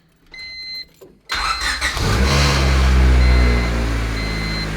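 A turbocharged Honda Civic engine fires up for its first start after some faint beeps, then cranks and catches into a loud, steady idle close by, with no talking.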